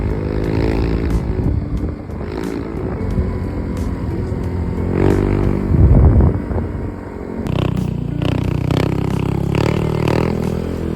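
Motorcycle riding along a dry, unmuddy mountain road: a continuous loud engine drone with gear-shift changes in pitch, plus rattling and scraping from the rough surface, no voices.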